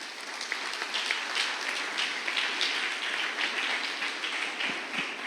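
A church congregation applauds, a dense, continuous wash of clapping from many hands that holds at an even level, with no talk over it.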